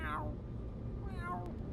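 A cat meows twice in drawn-out cries, the first at the start and the second about a second later, over a constant loud background hum.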